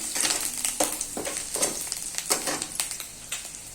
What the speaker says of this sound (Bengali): এরপর আমি আদা কুচিটা দিয়ে দেব। এক মিনিট মতো নাড়বো।